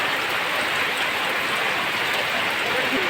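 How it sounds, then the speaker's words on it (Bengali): Steady, dense rain pours down close by, a continuous hiss of drops hitting surfaces with no breaks for the whole stretch. "রোদে গেছে, বৃষ্টি হইতেছে।"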